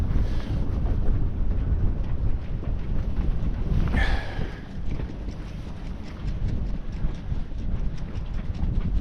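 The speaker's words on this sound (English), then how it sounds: "And now the wind's come up." Wind blows steadily at sea over a sailboat, a constant rough rumble of gusts buffeting the microphone, with water and rigging noise mixed in.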